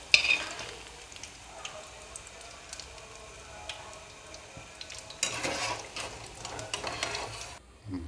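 Pakoras frying in oil for karhi pakora and being lifted out, a soft ongoing sizzle with light clinks of utensil on pan, growing louder in the last seconds, no talking.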